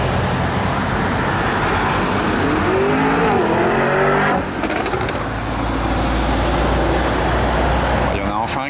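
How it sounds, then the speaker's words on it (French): A supercar accelerates past during the Gumball 3000 rally in France, a loud near engine whose rising, sweeping pitch climbs through the gears over steady street noise, with a second burst toward the end and voices talking faintly underneath. "Il y en a enfin un qui a compris qu'il fallait accélérer devant nous."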